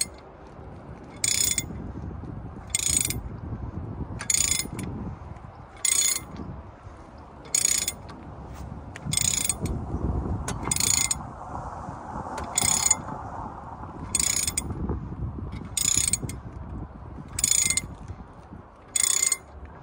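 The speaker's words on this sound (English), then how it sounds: "Now this is just a massive ratchet." A massive ratchet turns while a new drive shaft is fitted to a Mk4 Volkswagen Golf VR5. Loud bursts of rapid clicking repeat about a dozen times at a regular pace, with quieter clunks and shuffling between them.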